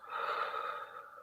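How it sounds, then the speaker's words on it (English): A single long breath pushed out through the mouth during a guided breathing exercise, a soft steady airy rush lasting about a second, close and alone with no talk. "we're going to take 2 deep breaths in through the nose, out through the mouth"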